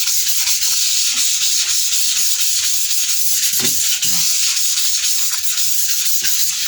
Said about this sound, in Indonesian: kita gunakan amplas yang nomor 240 ya, seperti ini. Kita goreskan